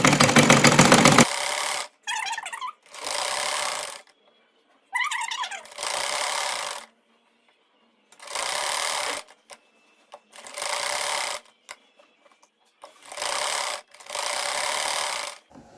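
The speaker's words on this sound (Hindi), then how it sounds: "ये अब हम लास्ट पर आउटर साइड पर जो है वो सिलाई लगा रहे हैं।" Sewing machine stitching the outer side of a shirt neck piece with piping, running in repeated bursts of about a second each, separated by short pauses, close and loud with no talking.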